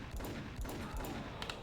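Gunshots in the Max Payne video game: a dense, continuous stretch of firing with repeated heavy thumping shots about every half second over a constant noisy wash.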